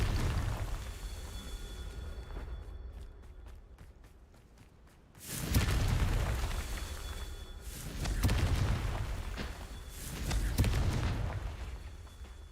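A Confringo fire spell in a wizarding video game bursts with a loud, deep boom, followed by rumbling blasts at intervals, with rapid clicking game effects in a quieter stretch before the first big explosion.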